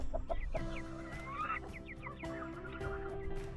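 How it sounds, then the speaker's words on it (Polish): Young chicks, a small flock close by outdoors, cluck and peep softly in a loose, overlapping chatter, with quiet scratching and rustling underneath. "to są te pierwsze moje kurczaki"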